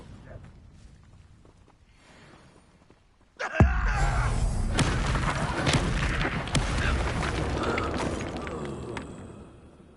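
The Incendio fire spell in Hogwarts Legacy erupts with a sudden loud burst after a quiet stretch, then gives way to a sustained roaring, crackling blaze mixed with other game sounds.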